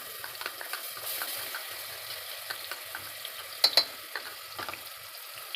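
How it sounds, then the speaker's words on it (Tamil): Ground shallots sauté in hot oil for a spicy mutton masala, giving a soft, steady sizzle broken by scattered scraping stir clicks and a couple of sharper metallic taps. "சின்ன வெங்காயம் நல்லா பச்சை வாசனை போகிற வரையும் நல்லா வதக்கிக்கோங்க"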